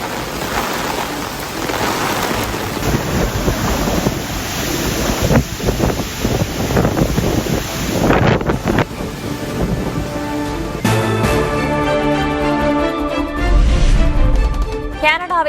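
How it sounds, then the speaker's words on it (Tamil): A storm batters the coast of the Philippines: loud, gusting wind roars with crashing surf for most of the stretch, then gives way to steadier tonal sounds near the end. "பிலிப்பைன்ஸில் உருவாகியுள்ள புதிய புயலால் கடலோர பகுதிகளில் பெரும் பாதிப்பு."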